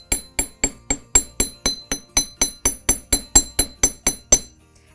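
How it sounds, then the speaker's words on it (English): Sixteen sharp, ringing metallic hammer strikes on wire over a steel bench block, evenly paced about three per second, each with a bright clinking ring. "So we'll just start hammering."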